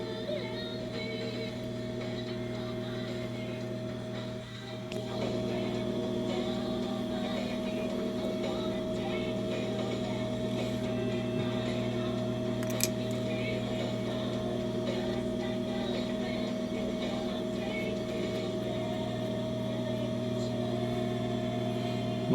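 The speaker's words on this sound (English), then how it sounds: "All right, guys, I am at the sewing machine." A sewing machine stitches fabric along marked lines, with a steady close mechanical whir and hum that pauses briefly near the start and then runs on evenly, with no talk.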